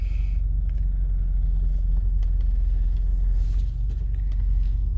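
A low, steady engine rumble from an old high-mileage Lexus idling low, heard close up and continuous throughout with no talking.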